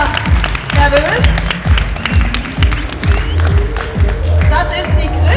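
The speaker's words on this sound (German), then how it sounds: "Und macht mal Applaus" Audience applause at a beauty contest in Hamburg: a crowd claps in brisk, uneven bursts throughout, fairly close, while someone talks over the clapping.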